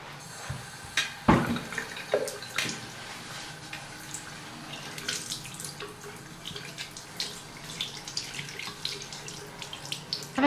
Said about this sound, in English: Shall we wash your hands now? Come on, let's go wash your hands.